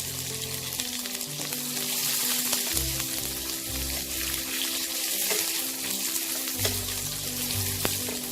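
Large sliced onions frying to a light brown in hot oil, a loud, continuous close sizzle with occasional stirring clatter and soft tonal hum beneath.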